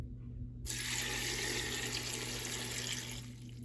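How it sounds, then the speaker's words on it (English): Water pours steadily from a tap into a Ninja Foodi pot holding a 16-ounce bag of egg noodles, a close continuous splashing stream lasting about three seconds before tapering off. "I'm gonna add 3 cups of water."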